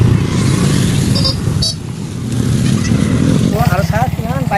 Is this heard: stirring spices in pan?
no